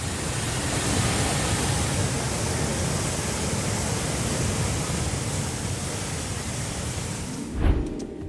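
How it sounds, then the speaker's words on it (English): The rushing water of Niagara Falls makes a loud, constant broadband roar throughout, with a short dull thump near the end. "We were completely content to spend hours just staring at the rushing water and waterfalls."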